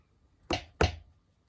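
Two crisp rim shot hits from a beat sample land about a third of a second apart, dry and sharp, alone.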